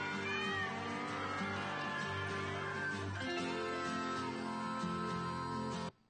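Several cats meow and caterwaul continuously in a herding-cats commercial, loud and close, a dense chorus of overlapping yowls lasting about six seconds before cutting off abruptly.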